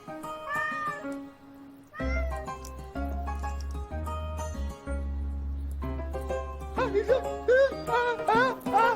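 A cat meows repeatedly, with several clear, rising and falling cries. A steady low hum runs underneath for much of the time, and the meows grow more strained and frequent toward the end.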